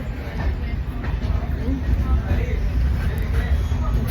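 Steady low rumble and rattle of a moving train heard from inside a carriage, continuous and moderately loud throughout, with faint voices mixed into the background.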